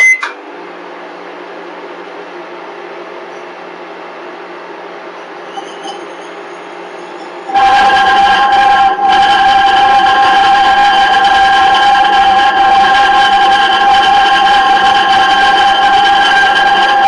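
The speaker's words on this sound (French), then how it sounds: "et j'allume le micro-ondes." A microwave oven switches on at about seven seconds and runs steadily with a loud, constant hum and buzz while a plasmoid is contained in a spherical glass vessel inside. Before that, only a quiet background hum is heard.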